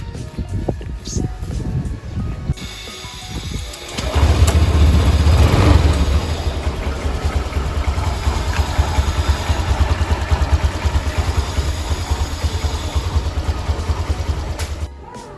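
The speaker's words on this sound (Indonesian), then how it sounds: "Kita pulang naik motor dulu." A motorcycle carries riders home: a few seconds of lighter road noise, then a loud, steady engine drone with rumbling wind and road noise that carries on to the end.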